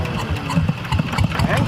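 The engine of a rice milling machine started with a hand crank, a chugging mid-pitched engine pulsing irregularly as it catches, close by, with people talking over it.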